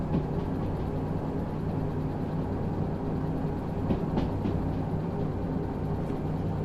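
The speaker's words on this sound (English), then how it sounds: "I'll leave both locomotives turned on while we make this climb up" Two locomotives running together up a climb in the Derail Valley train game, a steady low engine drone and rolling rail rumble with faint clicks, constant and unbroken, no voices.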